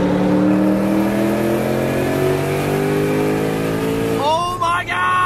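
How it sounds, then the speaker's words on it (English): Ford Mustang S550 with updated exhaust firmware revving loudly, a sustained rising engine drone held for several seconds before dropping off, close and dominant. "Check out the new exhaust update."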